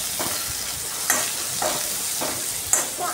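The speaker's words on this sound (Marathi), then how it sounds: "आता आपण टाकूया शिमला मिरची. आता परत आपण मिक्स करूया." Capsicum is stirred into noodles in a hot pan. A constant sizzle is punctuated by about four or five scraping spatula strokes at a loose rhythm, heard up close with no talking.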